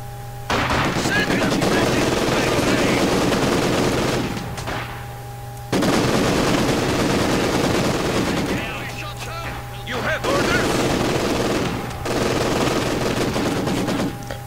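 Heavy machine gun crew firing in a Company of Heroes 2 battle, loud sustained bursts of automatic gunfire with brief pauses between volleys, alongside other battlefield gunfire.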